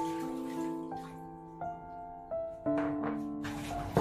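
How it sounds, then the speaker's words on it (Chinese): Bean sprouts rinsed under a running tap in a kitchen sink, a steady stream of water splashing and trickling close by, with a few small shifts in the flow as the sprouts are moved about. "把小豆芽冲洗干净"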